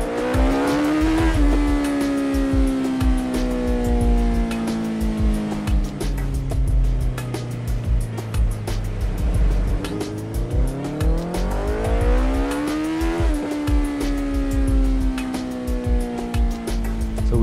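Motorcycle revving hard at full throttle in second gear, with a quick shifter briefly cutting ignition so the engine note stutters; loud, continuous revs that climb and drop in pitch across the whole stretch, with no talking.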